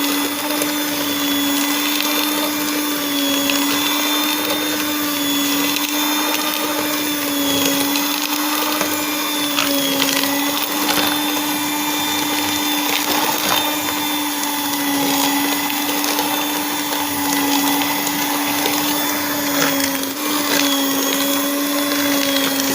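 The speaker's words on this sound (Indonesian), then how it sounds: "kocok gula pasir dan menteganya hingga tercampur." An electric mixer beats sugar and butter together, its motor holding a loud, steady whirring hum with a constant pitch throughout.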